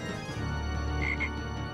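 A frog croaks in the PS1 Hercules game, two short throaty calls near the end over a steady background music bed, with nobody talking.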